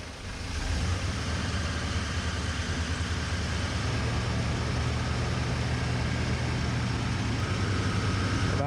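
The engine of a 1988 Chevy Suburban squarebody catches and settles into a steady, loud idle that holds for several seconds.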